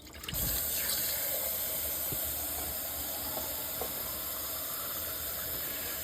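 Hot water pours steadily into a moonshine jar, a continuous hissing splash that starts abruptly and runs evenly for several seconds, close and alone.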